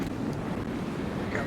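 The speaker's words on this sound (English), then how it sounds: "Some of these waves are starting to blast up these rocks as the tide's dropping" Rough sea waves blasting up against shoreline rocks at Beadnell as the tide drops: a constant churning wash and rumble with wind buffeting the microphone, close and noisy throughout.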